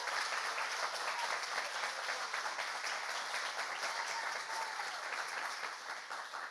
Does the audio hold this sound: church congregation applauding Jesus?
yes